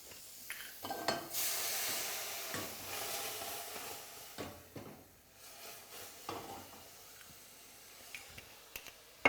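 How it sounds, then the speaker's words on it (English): Soft sizzling and hissing of strawberries in a hot pan, with scattered crackles and a few clinks, fairly quiet and steady with no talking. "In they go to the hot pan. Just start to sizzle."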